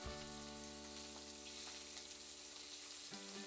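Shrimp sizzle in a skillet with a steady, close frying hiss that runs the whole time, over faint background music.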